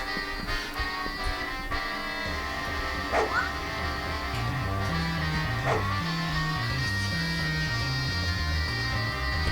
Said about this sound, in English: There was a dog barking.